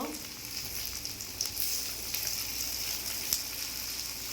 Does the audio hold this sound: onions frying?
yes